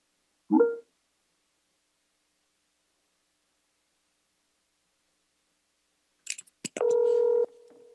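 Telephone dialing on a line during a commission meeting, the next caller being rung: a short thump early, then near the end a quick cluster of clicks followed by a steady, loud dual-tone DTMF beep over silence.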